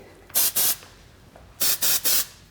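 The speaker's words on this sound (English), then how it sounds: "So I'm going to come through with some dry texture spray." Dry texture hair spray hisses out in short bursts, two quick sprays followed by a pause and then three more, close and crisp.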